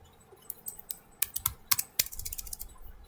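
Computer keyboard typing while writing Python code, a quick run of crisp key clicks that starts sparse and grows denser, close and clear with no voice.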